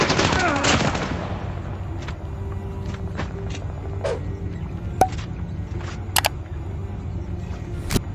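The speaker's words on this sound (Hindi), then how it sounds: "अभी फायरिंग की साउंड आई थी" Gunfire in the mobile shooter Call of Duty Mobile: a dense burst of rapid automatic fire opens the clip, followed by scattered single shots and short clicks against a low steady game hum.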